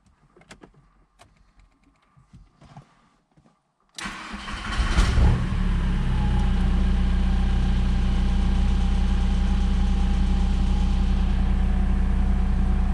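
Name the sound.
VW T4 syncro van engine running after oil change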